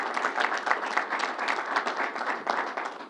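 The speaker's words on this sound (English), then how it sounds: "Let's give them a round of applause." Church audience at Grace Baptist Church breaks into steady applause, a dense wash of many hands clapping at close range with small surges, filling the whole stretch without pause.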